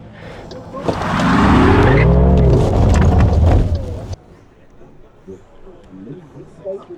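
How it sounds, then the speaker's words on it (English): An MG Cyberster does a burnout on a hillclimb dummy grid: engine revs rise and fall with a loud, close tire squeal for about three seconds, then cut off abruptly, leaving quieter idle and background noise. "I try and do a little bit of a burnout, see what it does."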